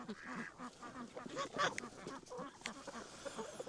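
Farm ducks quack repeatedly on a snowy morning, a cluster of nasal calls overlapping at close to moderate distance, with goose-like honks mixed in.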